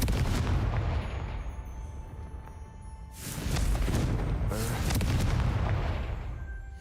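A Confringo blasting spell from the Hogwarts Legacy video game explodes in two loud booming bursts amid a continuous rumbling game soundscape, with no talking over it.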